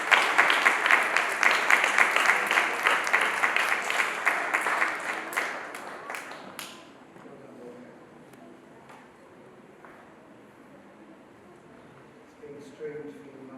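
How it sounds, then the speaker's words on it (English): An audience at a school prize day claps steadily for several seconds, then the applause fades out, leaving a quiet room with faint scattered noises. "Big round of applause."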